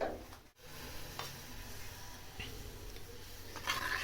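Hot spiced oil tadka for kadhi pakora sizzles and crackles steadily at close range, with brief louder bursts and stirring noises, and no voices over it.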